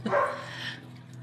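A single dog bark, fairly close and loud at the start, then fading into a low steady hum with no talk, at a friend's house.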